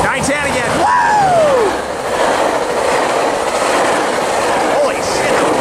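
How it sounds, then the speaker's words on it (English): A southbound Metrolink commuter train races past at speed on the San Bernardino subdivision, a loud close roar with a rising whistle-like sweep early on. Excited voices whoop and shout over the rushing noise. "We believe, yep, it's a Metrolink approaching us"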